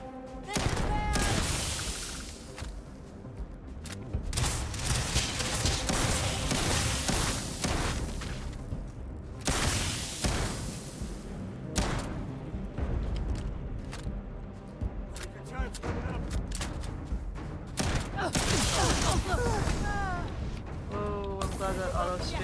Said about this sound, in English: Bullets again.